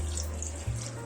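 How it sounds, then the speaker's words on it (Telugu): Water poured from a tap-like stream into fish curry in a pan for Andhra fish pulusu, a close, steady splashing rush with a brief gurgle near the end, no talking. "ఇప్పుడు కొంచెం వాటర్ పోసుకుందాం ఈ ఫిష్లో"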